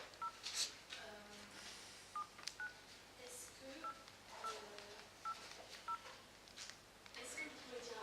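A mobile phone number is keyed in, a run of short separate keypad tones spaced irregularly, faint and mixed with quiet talk and room noise.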